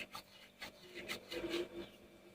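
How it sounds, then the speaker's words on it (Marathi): Carom seeds (ajwain) are rubbed between the palms for a fritter batter, giving a few quiet, close dry rasping strokes in short bursts. "मी आता सुद्धा हातावर असे चोळून घ्यायचे आहे"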